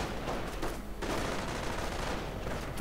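Dense, continuous battlefield gunfire in a Company of Heroes match, with an MG42 machine gun firing steadily from a bunker while grenades burst, a constant loud clatter with no break.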